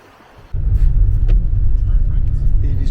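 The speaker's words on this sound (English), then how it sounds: "Evie's driving the van." A camper van on a road trip drives along a road in light rain, starting after a quiet moment with a sudden steady low engine and road rumble that stays loud throughout.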